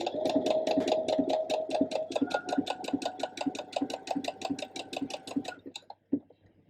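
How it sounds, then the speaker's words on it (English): A domestic sewing machine stitches steadily along a bra tab on a solid longline bra, a fast even run of needle strokes for about five and a half seconds before stopping, followed by a brief handling knock. "I'm going to continue stitching along that tab that we allowed for."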